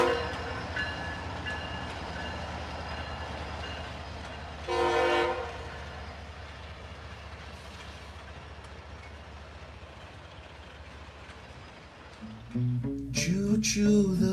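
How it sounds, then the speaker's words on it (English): A train passes on the track with a steady rumble and rolling clatter, a brief horn blast partway through, and another horn sounding loudly near the end. "the big train is coming down the track now"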